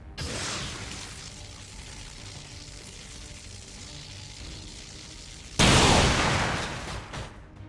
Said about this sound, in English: Specialist Vintage Blade can now do some good damage and remove the mech's Overwatch with a blaster bomb.